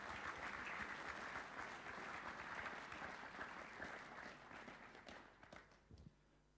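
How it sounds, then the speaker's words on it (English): Sustained audience applause at a school Year 12 co-curricular awards evening, dense clapping from a large crowd that holds steady for several seconds and then thins out and fades. "And we'll give those two boys another round of applause."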